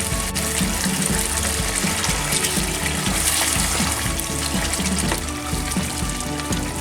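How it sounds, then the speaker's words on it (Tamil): Coconut milk pours into a simmering mushroom masala, a steady liquid splashing and bubbling sound running close and continuous throughout, with no talk. "தேங்காய் பால் சேர்க்கிறேன்."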